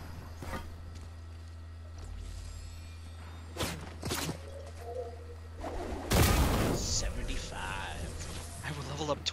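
Fortnite gunfire heard during play, scattered sharp shots and a louder burst midway, mixed with game effects and footsteps while a person talks over it.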